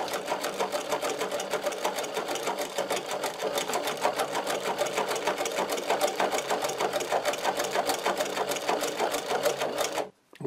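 A Podolsk sewing machine fitted with a servo motor, a Teflon presser foot, a size 150 needle and No. 15 thread stitches leather in a steady, rapid mechanical clatter. The sound continues for about ten seconds and then stops abruptly.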